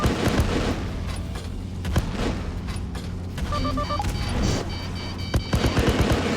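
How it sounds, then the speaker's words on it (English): Spaceship auto cannon fire in the space combat game Freelancer, rapid bursts of sharp shots and booming impacts over a humming engine backdrop, with electronic beeps, no talk. "If I can get those auto cannon hits on."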